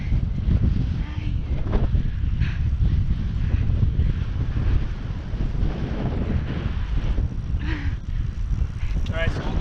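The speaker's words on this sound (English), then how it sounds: "I can't hear you because of the wind." Heavy wind buffets the microphone during an outdoor bike ride with a baby along, a loud, constant low roar that largely masks people talking.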